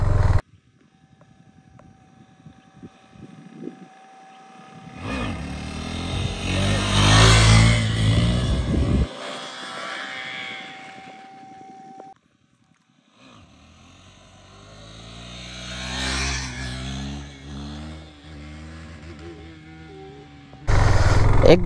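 A KTM Duke 390 motorcycle revving through a wheelie, with two long surges of engine roar that climb and fall, quiet idling between them and a sudden loud burst at the end.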